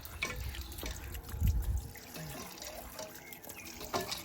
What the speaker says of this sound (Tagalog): Binobombahan yung tubig.